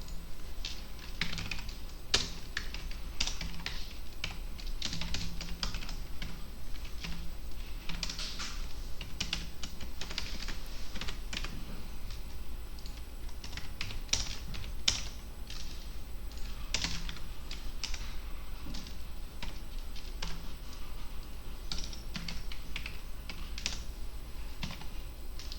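Steady computer-keyboard typing with dense, irregular key clicks that run continuously throughout, close and fairly quiet over a low background hum.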